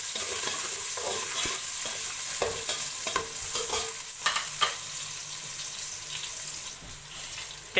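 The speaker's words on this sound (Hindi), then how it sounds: "प्याज को हम ब्राउन करेंगे।" Chopped onions frying in a pan for namkeen chawal, giving a steady, close sizzle with scattered stirring clatters and small knocks throughout, no talk.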